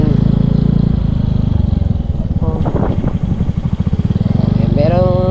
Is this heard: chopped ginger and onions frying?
no